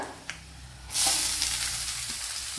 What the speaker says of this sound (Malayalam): ഇനി ഇതിലേക്ക് സവാള തട്ടിക്കൊടുക്കുക.